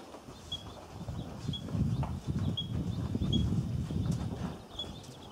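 A horse walks during a riding lesson in a soft, irregular clip-clop of hooves on the ground, moderately close, with faint bird chirps in the background.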